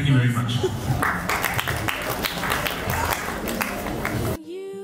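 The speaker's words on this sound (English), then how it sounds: "Let's give them a big round of applause, please." A studio audience breaks into a round of applause after a short idiom segment, with dense sustained clapping that runs steadily for several seconds before cutting off abruptly near the end.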